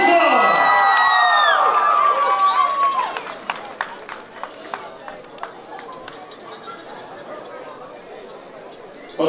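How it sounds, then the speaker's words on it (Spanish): A crowd at a Chicago norteña dance event cheers loudly with whistles and shouts for about three seconds, then settles into scattered claps and murmuring chatter. "¡Un aplauso!"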